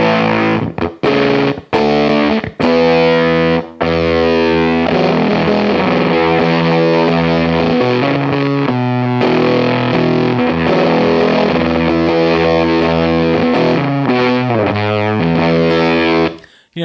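A Gibson SG electric guitar played through a Walrus Audio fuzz pedal, loud and saturated, with chopped stabs at the start giving way to sustained distorted chords and riffing.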